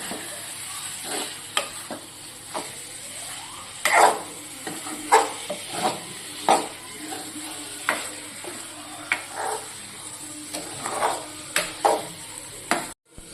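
Beef liver fry sizzling steadily in a pan while being stirred, with a continuous hiss broken by regular scraping strokes of a spatula at a moderate pace.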